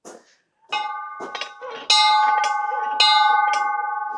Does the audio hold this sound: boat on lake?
no